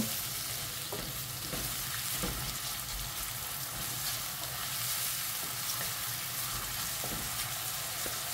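Onions frying with salt in a pan, a steady close sizzle with occasional soft stirring scrapes throughout, no voices.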